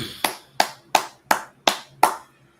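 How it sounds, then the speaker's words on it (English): Six crisp hand claps land in a steady, even rhythm, close and clear, each fading quickly before the next. "go ahead and clap it up."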